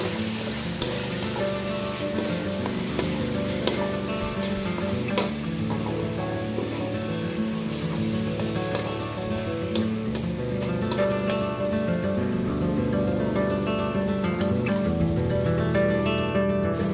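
Whole spices roasting in a hot pan for baingan bharta, a continuous crackling sizzle with occasional sharper pops and light stirring clicks, close and steady with no talking.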